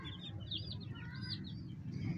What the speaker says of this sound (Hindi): ये जो देसी मुर्गी है ना